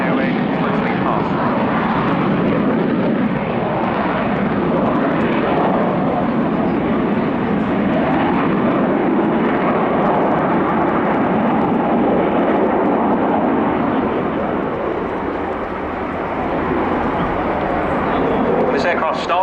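A Dassault Rafale C fighter jet in a flying display at an airshow roars loudly and continuously, its broad jet engine noise swelling and easing slightly as it passes, with a commentator speaking over it.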